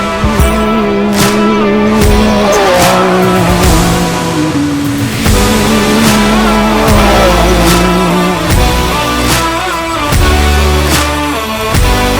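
A Baja race car engine revs hard during testing for the 2020 Baja 500, loud and close, with a continuous droning roar broken by repeated sharp blips and throttle surges across the whole stretch.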